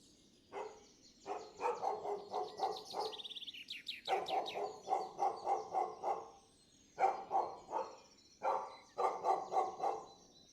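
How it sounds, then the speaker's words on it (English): Dogs bark somewhere far off beyond a forest edge, in short repeated clusters of yelps with brief pauses between them, fairly faint, and birds chirp now and then. "There are some dogs."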